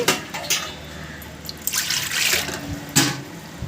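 Water splashes and trickles into a metal idli steamer pot in short bursts, close and fairly loud, with brief pauses between pours.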